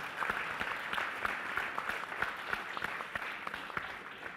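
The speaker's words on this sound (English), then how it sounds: "Please give them a huge round of applause." Seated conference attendees clap for panelists at an organisational culture discussion, a continuous, fairly faint round of applause with sharp individual claps scattered through it.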